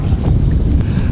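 Gusty wind buffets the microphone in a low, blustery roar, constant and close, with no voices.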